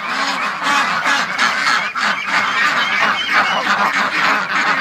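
A crowd of geese and ducks honk and quack loudly and constantly at a gate, the overlapping calls close and busy with no talking.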